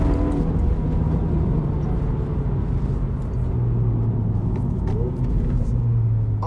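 A CTC Performance Hyundai i20N drives along with a steady low engine rumble and road roar inside the cabin, a thin whine layered over it, held fairly loud throughout.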